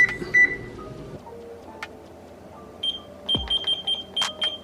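A kitchen cooking timer beeps repeatedly while being set for a meal-prep bake, with short evenly spaced high electronic beeps clustered toward the end, close and moderately loud over faint room noise.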